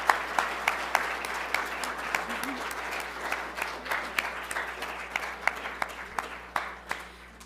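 An audience at an art gallery artist talk applauds steadily, a sustained patter of many hands clapping at moderate distance with no talk over it.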